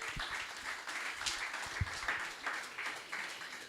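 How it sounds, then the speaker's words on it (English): Faint, steady audience clapping at a book launch, continuing evenly for a few seconds without talk. "So please, a round of applause in anticipation."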